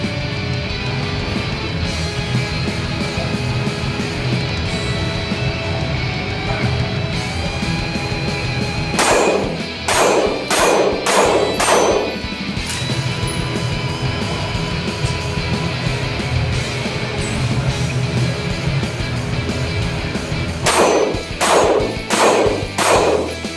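Walther PPQ M2 striker-fired pistol fired one-handed at steel targets from 10 yards: two quick strings of four to five sharp shots with metallic rings, spaced apart over steady outdoor background noise.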